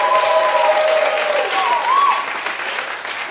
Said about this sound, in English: please, would you like to give yourself a round of applause,